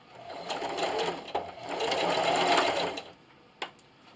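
Sewing machine running a straight stitch at 2.5 length for a small owl pincushion, including a backstitch: a close, soft motor hum in two short runs with a click between them and a sharp tap near the end.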